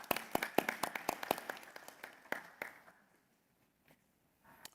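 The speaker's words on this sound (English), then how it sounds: "let's give him one more round of applause" Audience applause at an award ceremony: a burst of sharp, fairly close claps that thins out and fades within a few seconds, leaving near silence with a faint scattered clap or two at the end.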